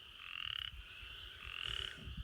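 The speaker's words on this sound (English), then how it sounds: "Singing frogs." Frogs croaking together at dusk in a steady chorus, with a bright trilling call rising twice over a dense, continuous background of calls, fairly close and moderately loud.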